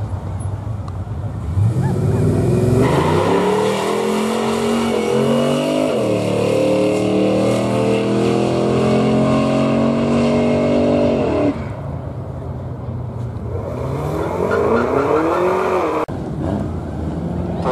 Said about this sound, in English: This is Barona Drag Strip, which is a little eighth mile on an Indian reservation here inland of San Diego.